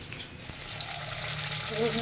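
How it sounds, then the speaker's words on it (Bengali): Thick pieces of fish fry in a pan, giving a continuous bright sizzling hiss that swells slightly louder over two seconds, with a faint murmur toward the end. "মাছ ভাজা বসিয়ে দিয়েছি"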